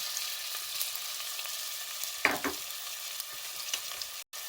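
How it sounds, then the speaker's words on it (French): Minced onion frying in red palm oil in a pan, giving a soft, steady sizzle with a couple of brief stirring scrapes, fairly quiet and close. "Je viens rajouter de l'oignon émincé."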